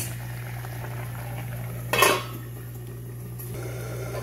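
Jaggery melting and simmering into a thick syrup for mango pachadi, a soft steady bubbling bed with one brief clink of a pot or utensil near the middle.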